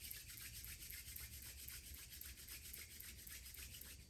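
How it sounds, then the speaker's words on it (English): Hands rubbing together to create friction and warmth, a soft, rhythmic brushing swish repeated steadily, faint and close in a quiet room. "rub your hands together, create a little friction, a little heat"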